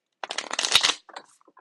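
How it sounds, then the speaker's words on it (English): Playing cards being riffled and shuffled by hand, a dense burst of close, crisp flapping for about a second followed by a few softer scattered taps, with no voices. "So we're going to shuffle on camera."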